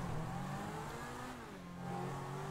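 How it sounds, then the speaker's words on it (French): A vehicle's engine in a video game hums and revs faintly with a steady droning tone that rises and falls slightly, distant and low in level with no speech. "le bruit du véhicule est incroyable"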